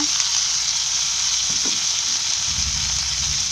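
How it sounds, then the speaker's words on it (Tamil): Tomato, green chili and mint sautéing in a pan make a loud, continuous close sizzle, with a soft stirring scrape partway through and no speech. "இது கொஞ்சம் வந்து வதங்கணும்"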